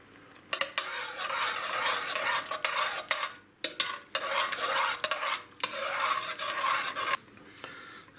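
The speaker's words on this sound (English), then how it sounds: "Just add a little bit in the container and mix." Spoon stirring sour cream through beef stroganoff in a pan, a steady scraping and swishing that runs in bursts with short pauses, close and alone with no voices.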